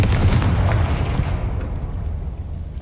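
A Confringo blasting spell in Hogwarts Legacy bursts in a single loud, booming explosion that fades over a couple of seconds.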